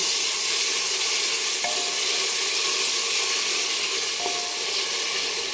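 Chopped onion and tomato fry in a hot pan for a Maharashtrian chicken thali, a steady loud broadband sizzle with two brief clicks of stirring, no voice over it.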